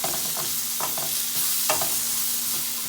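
Sliced mushrooms sizzle in a hot pan and get tossed, so a steady bright hiss is broken by a few soft scraping and clattering stirs, heard close with no talking.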